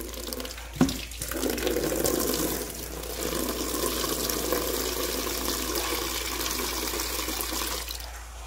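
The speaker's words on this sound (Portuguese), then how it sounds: "Vou estar colocando água na bacia." Tap water runs steadily into a basin, a continuous splashing fill with one brief knock near the start, set while raw chicken is being cut up.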